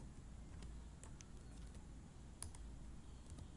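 Quiet keystrokes on a computer keyboard as a MATLAB command is typed, a few scattered clicks over a low steady room hum.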